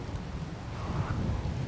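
Rain falling steadily with a low rumble of thunder in the RimWorld video game, a dense, continuous wash of in-game weather heard alone at moderate level throughout.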